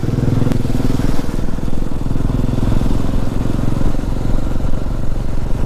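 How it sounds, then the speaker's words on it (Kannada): A superbike engine runs steadily and loud throughout on a ride through Bisle Ghat, a close, throbbing mechanical drone with no voices. "ಸೂಪರ್ ಬೈಕ್ ಅದು"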